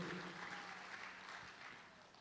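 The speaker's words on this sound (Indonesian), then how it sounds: "Yang setuju boleh berikan tepuk tangan yang meriah buat Tuhan Yesus." A church congregation claps after a Sunday sermon, producing a steady, fairly faint wash of applause from many hands that continues throughout and slowly fades slightly.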